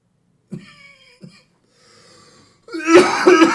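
A man coughs twice in short bursts while taking a break from live commentary on a FIFA World Cup match, Norway vs. France, then a longer, louder fit of harsh coughing takes over at the end.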